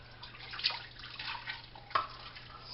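Meat juices and water are poured into a slow cooker for taco chili, giving light splashes and drips with a couple of sharper spatters, close and moderately loud, no talking.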